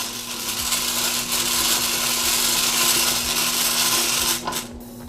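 A Whirley Pop stovetop popper is cranked steadily while roasting coffee beans, giving a continuous dry rattling churn over a low steady hum for several seconds. The cranking stops abruptly near the end.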